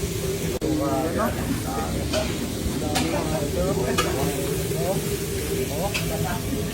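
Food fries in hot oil for crispy dinuguan, a loud, continuous sizzle and hiss with stirring scrapes, while people talk over it.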